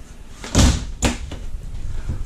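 An RV bathroom shower door in a 2019 Jayco Octane SL 273 swings shut, giving two close, solid knocks about half a second apart with a faint rattle after them.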